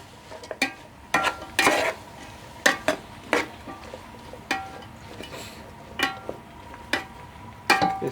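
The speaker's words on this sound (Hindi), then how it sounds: "इसको भी हम भूनेंगे अच्छी तरह।" Capsicum and peas being stir-fried in a pan for chicken and vegetable macaroni, with a series of sharp spatula scrapes and clinks against the metal pan at irregular intervals and a faint sizzle underneath, close by with no talking.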